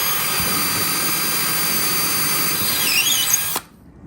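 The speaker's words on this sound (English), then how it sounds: "Just gonna put a 1/8 inch hole right down in there." Power drill with a 1/8 inch bit boring a hole during a DIY bazooka tube subwoofer build, a loud steady high whine held for over three seconds, rising briefly in pitch before it stops abruptly.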